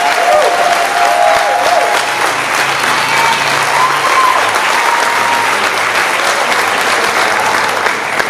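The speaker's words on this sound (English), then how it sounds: "Give them a round of applause." A crowd gives a round of applause for military veterans at a political talk event, sustained loud clapping that fills the room evenly for several seconds.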